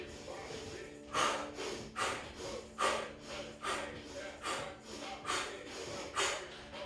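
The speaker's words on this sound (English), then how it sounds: "As you're driving those hips down, I want you to exhale through the mouth. When you're coming up, inhale through the nose." Rhythmic workout breathing, exhaling through the mouth and inhaling through the nose, repeats in about eight sharp, close puffs at a steady pace, fairly quiet.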